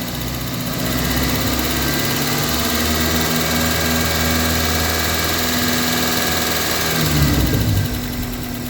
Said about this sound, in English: if I wanted to increase the RPM to 2000 RPM on this particular vehicle, I can just do that right here at the throttle cable